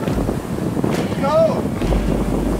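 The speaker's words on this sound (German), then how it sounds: "20 Knoten Wind." Strong storm wind roars across a sailboat on the Pacific Ocean, steady loud gusting with microphone buffeting and water rush throughout, while a voice speaks briefly near the middle.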